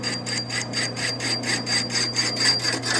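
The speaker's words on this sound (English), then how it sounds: "I've got my parting bit set up in the lathe" A parting bit on a metal lathe cuts a throttle sleeve for a 1950s Harley JD bobber, making a close, steady rasping scrape that pulses rhythmically over a constant machine hum.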